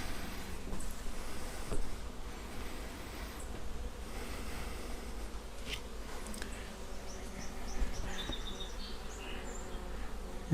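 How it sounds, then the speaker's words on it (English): Honey bees buzz steadily around comb transferred into a hive at a bee sanctuary, a continuous dense hum with nearby insects passing, and no voices. "And you can see the bees coming in and out here."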